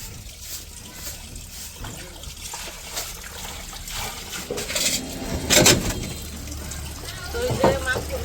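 Qurbani meat being washed in water in a village setting: soft, faint trickling and dribbling with a few sharper splashes near the end, and occasional speech in the background.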